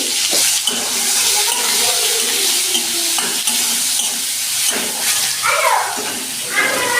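Shrimp fry in oil with mustard seeds and green chillies, a loud, continuous sizzle with stirring scrapes close by, plus a watery, splashing texture throughout.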